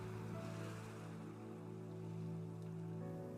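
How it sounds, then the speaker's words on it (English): Steady wash of ocean waves fills the scene without pause, a broad continuous rush with a low droning undertone, fairly quiet and even throughout with no voices. "The waves settle."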